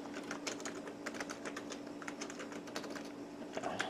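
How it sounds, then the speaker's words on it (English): Quiet, close clicking of keys typed on a Compaq Presario 2200 laptop keyboard, steady irregular tapping over a low background hum, with no talking. "Typing at a weird angle."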